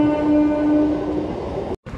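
A MEMU express rolls through a very sharp curve near Kadiyam, giving a steady close rumble with a sustained squealing tone over it that fades before a brief dropout.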